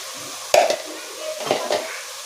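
Spices and salt stirred into chicken gravy frying in a pan, two scraping strokes of a spoon against the pan over a soft sizzle, close and clear.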